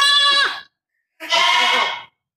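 Two loud, close bleats from a four-teated desi goat in a Hyderabad goat market, each lasting under a second and separated by a short pause.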